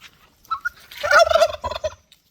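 A single loud, warbling turkey gobble rattles out nearby, preceded by a brief softer call.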